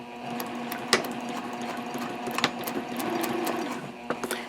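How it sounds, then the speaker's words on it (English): A sewing machine stitches darts closed on the exterior and lining of a sling bag at a 2.5 stitch length, a steady close mechanical whir with a few sharp ticks and no talk. "I'm sewing the darts closed on both the exterior and the lining"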